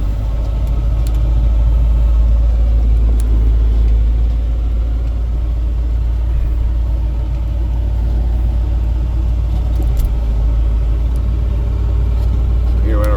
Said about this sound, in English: There's the AC compressor on there. Is that a little loud?